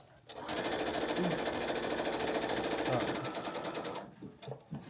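A sewing machine stitches a charity quilt block in one steady, close, rapid run of needle chatter that lasts a few seconds before it stops. Voices can be heard faintly underneath.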